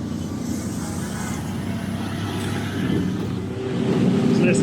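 Keke tuk-tuk rolling through the streets of Freetown, Sierra Leone, its small engine giving a steady close drone mixed with surrounding road and traffic noise, swelling slightly toward the end.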